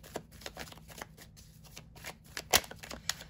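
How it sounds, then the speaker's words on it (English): Tarot cards are shuffled and drawn close by: soft papery riffles, flicks and slaps in an uneven rhythm, with one sharper snap partway through. Quiet throughout, with no voices. "Let's see if we can pull another card on that."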